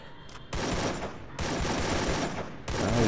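Gunfire in the Free Fire video game on the Bermuda map: three loud, dense bursts of rapid automatic shots, close and sustained, separated by brief lulls.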